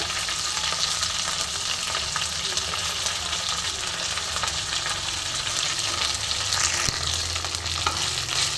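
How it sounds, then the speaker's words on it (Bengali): Shiuli leaves frying with whole spices in hot tempering oil, a dense continuous sizzle close by with faint stirring scrapes throughout. "ফোড়নের সাথে আমি পাতাটা ভালো করে ভেজে নেব।"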